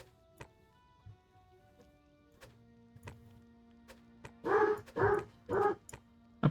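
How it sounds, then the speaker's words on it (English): Dogs bark three times in a quick loud burst near the end, after scattered clicks and faint game sounds, close to the microphone. "Apologize for the dogs."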